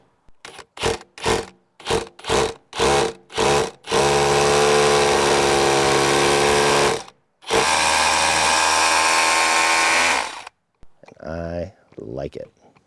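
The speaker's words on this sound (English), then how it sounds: "just let the drill do the work." A power drill drilling into concrete stairs whines in several short bursts, then runs in two long sustained grinding stretches, loud and close; a voice speaks briefly at the end.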